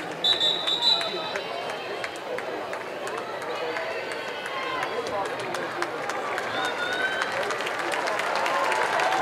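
A hometown crowd at a women's college soccer match between Pittsburgh and North Carolina applauds a substitute goalkeeper, a steady wash of distant clapping and cheering that swells slightly toward the end, heard under a commentator's talk.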